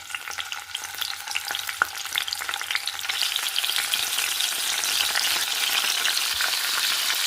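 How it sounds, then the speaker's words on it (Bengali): Fish fillets frying lightly in oil in a pan for a fish curry with potatoes, giving a steady crackling sizzle that grows a little louder and denser partway through, close and continuous with no talking. "একটা প্যানে দিলাইছি, তেল দিলাইছি, এখন হালকা ভাজিয়া নিমুগি"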